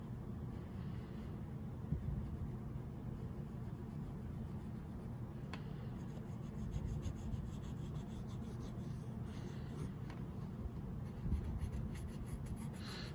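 A pencil drawing across still-damp paper gives a soft, continuous scratching and rubbing, heard up close at an even level with a few faint taps and no talking.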